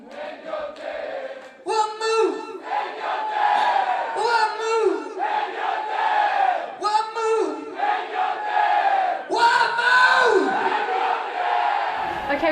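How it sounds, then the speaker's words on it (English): A loud concert crowd sings along together, voices massed and shouting in sustained phrases with rhythmic bursts, filling the space with continuous, energetic vocal noise. "when people sing along really loud"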